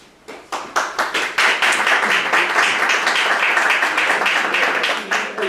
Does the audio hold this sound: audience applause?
yes